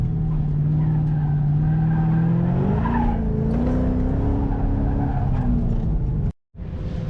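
Loud engines of hot rods roar and rise in pitch as cars race close by on a track, with tires squealing, before the sound cuts out briefly and resumes.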